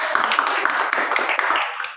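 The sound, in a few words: group clapping hands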